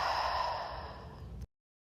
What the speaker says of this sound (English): exhaling out the largest exhale you've made today.